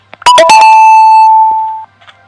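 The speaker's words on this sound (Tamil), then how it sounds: "நோட்டிஃபிகேஷன் வேறு" A phone notification beep sounds as a few quick blips followed by one loud, close, sustained electronic tone of about a second and a half, then faint chirps, with no talking.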